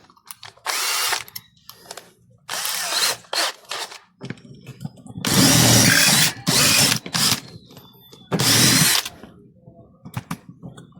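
Power drill with a 3/16 bit boring into a fan guard holder, running in several loud bursts of one to two seconds separated by short pauses and lighter scraping.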